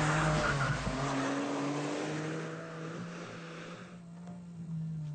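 A fast road car on high-end tires runs at the Pirelli test track near Milan, Italy, its steady engine drone and tire roar passing close and loud, then easing slightly.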